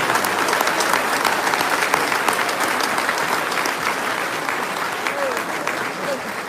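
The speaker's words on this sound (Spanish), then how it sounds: "Aplausos para la hermana." Steady applause from a church audience for a woman after a question-and-answer session, dense clapping continuing for several seconds with faint voices mixed in.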